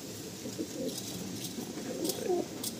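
An old male Madrasi pigeon coos softly nearby in a few low, rolling throaty phrases over quiet background, with a faint voice briefly in the mix.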